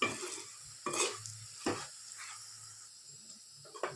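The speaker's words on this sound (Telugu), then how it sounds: "ఇప్పుడు ఇవన్నీ మంచిగా మిక్స్ అవ్వాలి. మిక్స్ అయ్యేంత వరకు కలుపుకోవాలి." Spices are stirred into bitter gourd fry in a pan, a few distinct scraping strokes of a spoon against metal over a faint low sizzle, close and quiet, with no talking.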